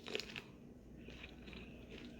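A mouthful of shrimp Cobb salad with red onion is bitten and chewed close by, giving a quiet crisp crunch followed by soft, faint chewing.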